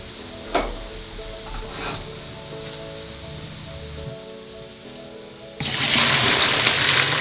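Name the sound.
cooked pasta rinsed under cool running water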